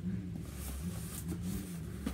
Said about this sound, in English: There is a motorcycle out there and they are revving their engine to let us know that they are here.